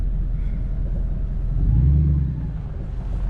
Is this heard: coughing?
no